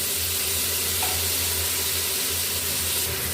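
Garlic, ginger and crushed green chili fry in a hot pan with lauki gosht, giving a loud, steady, unbroken sizzle throughout, with a faint low hum underneath.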